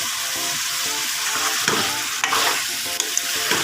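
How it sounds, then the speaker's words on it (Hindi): Mutton karahi being stirred and mixed in a hot pan, a steady sizzle broken by scraping and clinking as the spoon turns the meat, close and fairly loud. "इसको अच्छे तरीके से मिक्स कर लेते हैं।"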